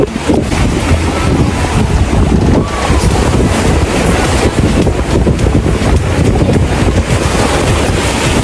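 Loud, continuous rushing and splashing water fills the whole stretch, a dense close wash with no talking.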